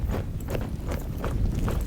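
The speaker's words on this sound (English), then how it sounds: "Nice horse there." Horse hooves clip-clop in a steady walking rhythm in The Dwarves video game, a continuous patter of soft, repeated hoofbeats over a low rumbling background with no talk.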